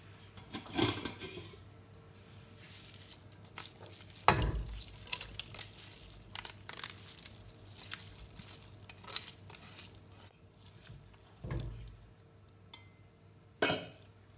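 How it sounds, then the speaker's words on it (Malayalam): Ada pasta being stirred in hot jaggery syrup for adapradhaman in a heavy-bottomed pan: scattered scraping and stirring strokes with a few louder knocks near the start, middle and end, over a low steady background. "ഇതിങ്ങനെ ഇടയ്ക്കൊന്ന് ഇളക്കി കൊടുക്കണം."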